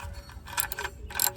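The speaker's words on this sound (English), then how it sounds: "go ahead and tighten your drain plug all the way down" Oil drain plug on a Nissan 370Z being tightened down with a wrench, giving a few close, quiet metallic clicks and ratchet-like ticks in short bursts, with no talking.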